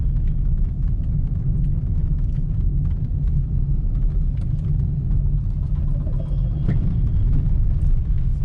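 A car cruises in third gear, giving a steady, loud low-frequency engine and road rumble heard from inside the cabin, with faint rattles and no voices.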